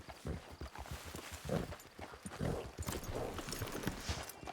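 Horse hooves clip-clop in a steady walking rhythm in the Western video game Red Dead Online as a rider approaches a camp, close and continuous, with faint talk at moments.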